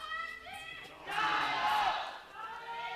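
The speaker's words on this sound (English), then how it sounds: "Actually hearing the crowd is very refreshing." An esports arena crowd at a League of Legends match between OMG and Team WE swells into a loud roar of cheering and shouting, with commentators talking before and after.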